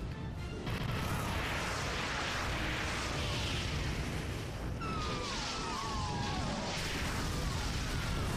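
In the Godzilla King of Kaiju video game, Biollante fires her beam as a loud, sustained roaring blast with crackling, rumbling texture, layered with shrill electronic squeals midway.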